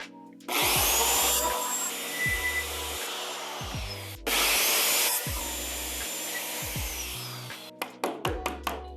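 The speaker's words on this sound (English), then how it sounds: "So let's grab our circular saw and square off these edges." Circular saw squaring off the edges of scrap wood: two loud, sustained cuts, each a few seconds long with a brief pause between them, followed by a handful of short knocks and clatters.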